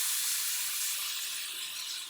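A tap runs, washing hairstyling product off hands. There is a steady, soft hiss of running water throughout, with no talking.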